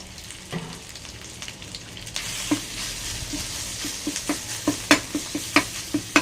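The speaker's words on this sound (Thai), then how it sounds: "แล้วก็ผัดพริกแกงนะครับพริกแกงเผ็ดนี่นะฮะ" Red curry paste stir-fried in hot oil for a bamboo shoot chicken curry, a steady close sizzle with a run of sharp, regular spatula scrapes and taps that grow louder toward the end, no voices.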